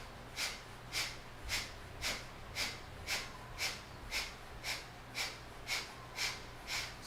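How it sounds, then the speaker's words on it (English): Kapalabhati yoga breathing: a dozen sharp, forceful nasal exhales in an even rhythm about twice a second, close and fairly quiet, each a short puff with brief pauses between. "Do Kapalabhati, forceful exhales."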